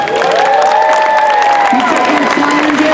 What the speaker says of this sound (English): Big round of applause for him right there